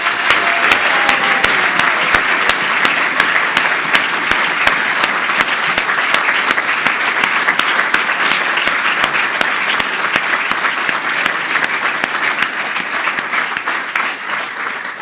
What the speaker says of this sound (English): let's just give a massive round of applause